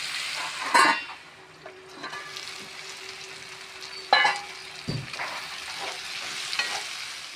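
Dry fish and eggplant curry simmering under a lid on a medium flame in a village kitchen, giving a soft steady sizzle with a few brief clinks and stirring knocks from the pan.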